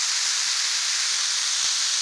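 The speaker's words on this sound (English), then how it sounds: "Hear that sizzle?" A steady, bright sizzling hiss of burgers frying on a hot Blackstone griddle, constant and close, with a few soft pops and no talking.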